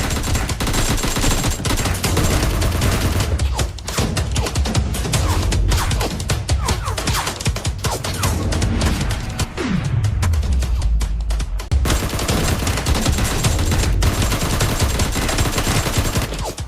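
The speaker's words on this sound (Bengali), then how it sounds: "গুলির শব্দ?" Rapid, loud bursts of gunfire crackle almost nonstop, with dense volleys and occasional heavier booms filling the whole stretch.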